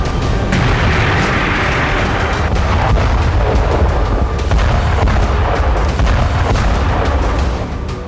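Explosions from the Russia-Ukraine war rumble as a loud, continuous, heavy booming roar with dense low rumble and scattered crackling bursts throughout, no voices heard.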